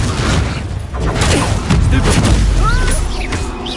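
Confringo spell blasts in Hogwarts Legacy form a dense run of heavy booms and crackling impacts during combat, loud and continuous, mixed with whooshing magic effects.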